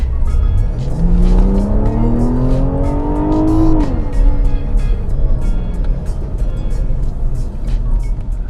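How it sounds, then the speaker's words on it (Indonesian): A BMW 840i Gran Coupe M Technic sedan accelerates hard, its engine note climbing steadily in pitch for about four seconds before a gear change, then continuing as steady road and engine roar, loud and close with no talking. "Kita coba akselerasinya."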